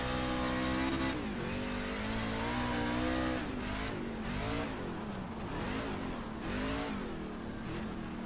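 A dirt race car in the iRacing game, with an H-pattern gearbox, at Port Royal dirt track, its engine droning loud and close, revving up and down through gear changes and corners.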